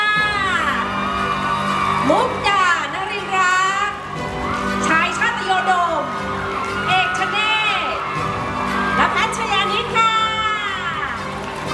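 An audience at a Thai stage event for the cast of the series Decalcomania cheers and shrieks in high-pitched waves that rise and fall throughout, loud and close, with talk mixed in.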